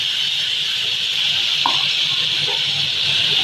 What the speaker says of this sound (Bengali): মাখানো পনির দিয়ে দিলাম, একটু হালকা হাতে ভাজা ভাজা করে নেব।